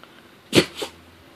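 A puppy gives one sharp sneeze on command, then a second softer one a beat later, both close and clear against a quiet room.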